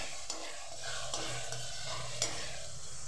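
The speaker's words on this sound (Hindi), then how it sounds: "मसालों को हम दोस्तों धीमी आंच पे ही भूनेंगे" Spices are stirred and roasted over a low flame with mustard greens in a pan for sarson ka saag, giving a steady close sizzle broken by a few scraping strokes of the spoon.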